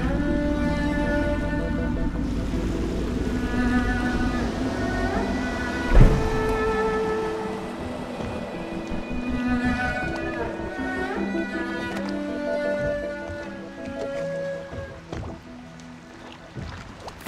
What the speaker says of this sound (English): I should concentrate on piloting this boat.